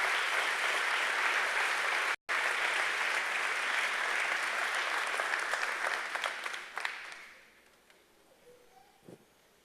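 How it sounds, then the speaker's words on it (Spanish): A church congregation claps loudly in sustained applause that holds steady for several seconds, then thins out and fades, leaving a few scattered sounds at the end. "Denle pero un fuerte aplauso a Jesús"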